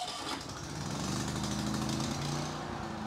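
An Allen inverter generator for home use runs steadily with a smooth, moderate engine drone and faint harmonic hum throughout, with no voices.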